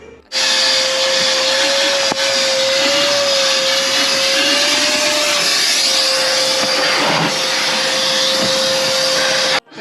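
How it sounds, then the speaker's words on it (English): A vacuum cleaner runs steadily and loudly inside the interior of a Nissan 350Z with its seats removed, a continuous whine holding from start to finish and cutting off abruptly at the end, with no talking. "So we got the car fully vacuumed out."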